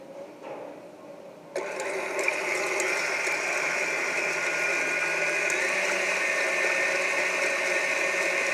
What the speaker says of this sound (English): So I have 3 egg whites which are going to go into our mixer. We're just going to whisk those up